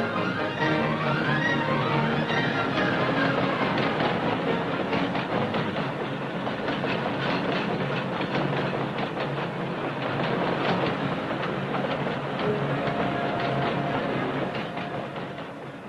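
A freight train departs carrying cargo, a loud steady rumble of rolling wagons with faint clickety-clack from the wheels on the rail joints, continuous and close throughout, with no voices.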